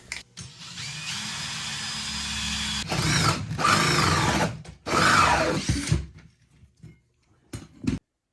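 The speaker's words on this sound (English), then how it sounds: "And then we'll drill our hole" A power drill whines steadily, then bites in with louder grinding bursts as it bores a hole through a floor for a toilet flange, followed by scattered knocks and clatter.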